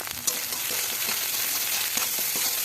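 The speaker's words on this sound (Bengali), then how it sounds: "ভালো করে মশলাটাকে কষিয়ে নেব লবণ হলুদ দিয়ে।" Ground spice paste with whole cumin, salt and turmeric frying in oil for a fish curry, a close continuous sizzle broken by soft stirring scrapes.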